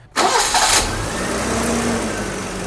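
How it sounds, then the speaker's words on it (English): A BMW E30 engine cranks and fires up, settling into a steady idle with a faint whine and a light clicking under the running engine, close and loud, with no talking. "So this thing is clicking pretty much as soon as the car fires off."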